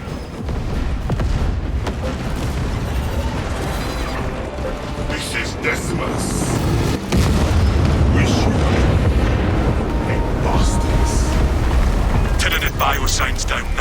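Explosions detonate in the Warhammer 40k Space Marine 2 video game against a Tyranid swarm. Loud, continuous booming and rumbling carries on through the whole stretch, with dense mechanical battle noise and a voice heard over it.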